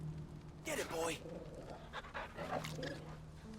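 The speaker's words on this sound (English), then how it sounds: "And we give the dog a treat." A dog in the Final Fantasy 16 video game pants in quick, soft breaths, with a brief whimper, heard up close beneath quiet game background sound.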